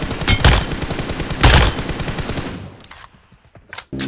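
Automatic gunfire in the PUBG Mobile video game, with loud rapid bursts of shots close up, two heavier volleys, then quieter scattered shots fading toward the end.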